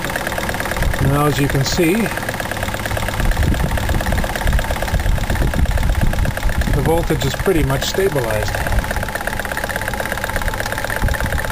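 A model steam engine runs steadily throughout, its continuous mechanical chugging and knocking sitting under a voice as he talks over it.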